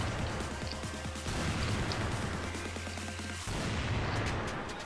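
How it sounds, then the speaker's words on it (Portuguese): Rapid gunfire in the online shooter CrossFire, a dense, loud burst of repeated shots with mechanical clatter that runs without pause through the whole stretch. "Tomaram o tiro de onde?"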